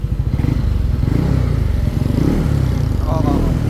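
A motorcycle engine on a center stand runs up from idle, its rapid pulsing growing in a steady rev, close and loud with a faint voice near the end.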